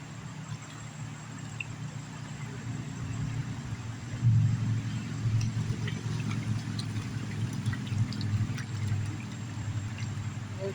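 River water swirls and sloshes in a gold pan during panning in a Blue Ridge mountain river, with a continuous low rush of flowing water underneath and no talk.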